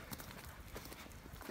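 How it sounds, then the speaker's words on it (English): Two horses walk ahead on an outdoor path, their hooves giving faint, distant clip-clop steps in an uneven rhythm over soft background noise. "There's two horses up in front of us."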